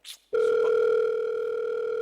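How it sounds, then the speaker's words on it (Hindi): Phone tone starts abruptly after a short noise and holds as a steady, loud electronic hum with a higher overtone, continuous to the end. "सर आपका फोन आ रहा है।"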